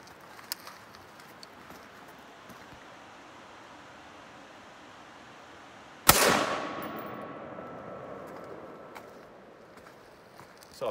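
A single loud rifle shot of a green-tip penetrator round fired from a longer barrel through a propane tank, ringing out and decaying over several seconds after a stretch of quiet background hiss.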